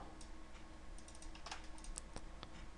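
Faint, close clicking of keys as code is typed on a computer keyboard, an irregular run of small taps over a quiet steady hiss, with no voices.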